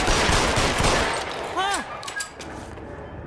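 Gunfire in a video game: bursts of rapid shots crowd the first half, then a short cry rings out and the shooting thins into scattered quieter pops.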